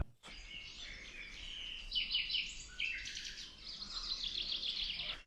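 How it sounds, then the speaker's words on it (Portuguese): Small birds chirp and twitter steadily among the church ruins in Croatia, a dense run of bright, high calls close by with no talk over them. "Se ficarmos em silêncio, ouvimos os passarinhos."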